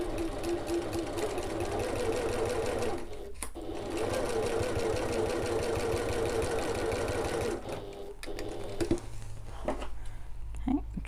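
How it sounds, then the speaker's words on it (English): A sewing machine runs in steady rapid bursts while stitching a seam on an evening bag, briefly stopping twice before resuming, with the needle's quick mechanical chatter close and clear. "we're going to sew these then using the regular seam allowance. I'm going to back stitch at the start and the end."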